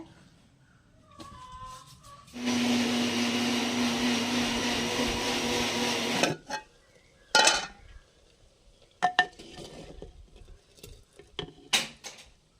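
A mixer grinder whirs loudly for about four seconds grinding spice paste for a taro curry, then stops, followed by several sharp clinks and taps of the jar and utensils.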